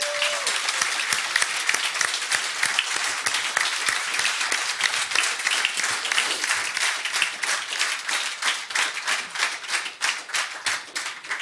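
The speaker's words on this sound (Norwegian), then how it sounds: "gi dem en liten applaus, de har jobbet hardt" An audience at a live hunting-stories show claps steadily for its hosts, a full, even patter of many hands lasting several seconds with individual claps distinct, thinning a little near the end.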